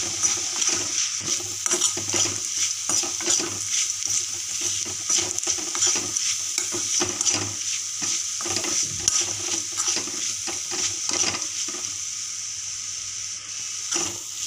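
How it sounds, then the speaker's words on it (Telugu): Food cooks in a pan while a spoon stirs it repeatedly, giving a steady run of close scraping and clinking strokes over a continuous sizzle, with no talk. "ఇక్కడే ఉండి కలుపుకోవాలి, మాడిపోతుంది కాకపోతే"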